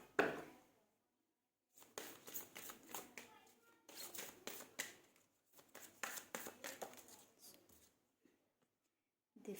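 Tarot cards are drawn and shuffled from a deck in short bursts of crisp papery flicks and slides, close and fairly quiet, broken up by silent gaps.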